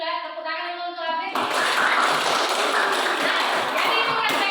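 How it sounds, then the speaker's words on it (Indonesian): After a short stretch of speaking, a group bursts into dense, steady hand clapping that carries on loudly to the end. "jadi itulah tepuk tangan dulu untuk Afif."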